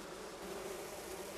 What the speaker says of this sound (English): bees can be stroked like pets, says Klaus.